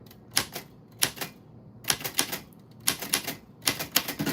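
Fingers type on a keyboard in quick bursts of clicking keystrokes, separated by brief pauses, close and fairly crisp with no talking.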